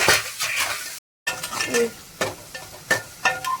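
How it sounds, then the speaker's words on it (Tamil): Two onions and two tomatoes sautéing in a pan, with a steady sizzle broken by frequent stirring scrapes and light metallic clinks of a spoon, fairly close and moderately loud, a brief dropout partway through. "நல்லா வதக்கிக்கலாம் ஒரு ரெண்டு தக்காளி இதுவும் ரெண்டு வெங்காயம்"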